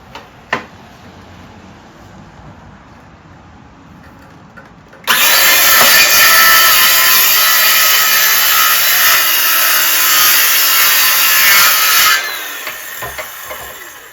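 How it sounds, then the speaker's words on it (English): A circular saw rips along the edge of a wooden board. After a click and a few seconds of quiet, a loud, steady high-pitched whine runs for about seven seconds, then spins down. "I'm going to ride this on the edge here with the table saw, with the circular saw"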